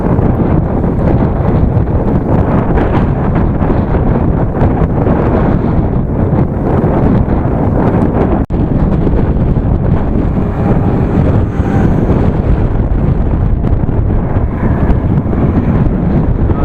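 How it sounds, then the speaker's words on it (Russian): Strong crosswind buffeting the microphone beside a road with a loud, continuous roar and gusty low rumble, steady throughout with no voices. "Ветер боковой стал, уже поддувает."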